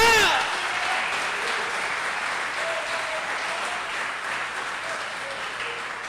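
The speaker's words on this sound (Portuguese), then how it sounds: "dê glória ao Senhor, aplauda" Sustained applause from a church congregation during a worship service, filling the room evenly for several seconds after a brief opening voice.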